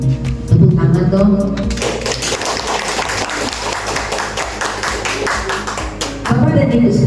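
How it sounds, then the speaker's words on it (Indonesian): Audience clapping at an Indonesian education presentation in Kramat Jati, a dense round of applause rising after a short stretch of talk and lasting about five seconds before the voice returns. "Tepuk tangan dong."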